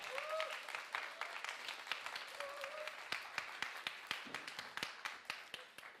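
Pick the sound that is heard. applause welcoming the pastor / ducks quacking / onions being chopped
applause welcoming the pastor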